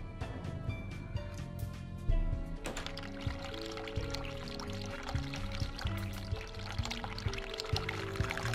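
Water pouring from a tap in a horror adventure game, a steady stream running continuously under layered game music and ambience.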